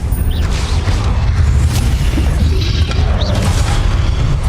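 A Confringo fire-bolt spell explodes in Hogwarts Legacy with a dense, continuous low boom and crackle that stays loud throughout, with a few faint whooshes over the rumble.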